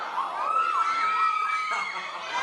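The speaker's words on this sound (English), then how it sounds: "Do you ever get used to that, the screaming?" A crowd of fans screams loudly and without a break at a Penshoppe press conference, a dense, shrill wall of high-pitched cheering.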